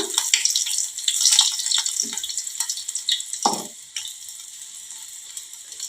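Green chillies fry in oil with a light sizzle and scattered crackling pops, near and fairly quiet, fading gradually toward the end.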